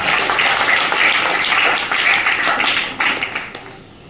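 An audience at a puppet and mimicry show claps together in a loud, dense burst that holds steady for several seconds, then thins and fades out toward the end.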